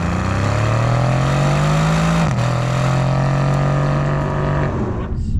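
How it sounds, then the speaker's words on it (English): Mercedes-AMG C63 S Wagon exhaust note, loud and close, droning steadily as the engine holds revs, then a brief dip and a new gear before it fades near the end. "music to our ears is that exhaust note"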